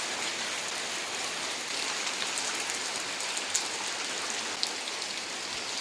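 Rain falls steadily in an even, dense wash of hiss, with faint drips and patters scattered through it and no voices.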